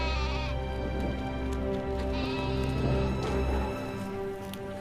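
Sheep bleat repeatedly in a dirty manure-caked stable stall shared with donkeys, the calls close and loud over steady ambient noise, with no talking.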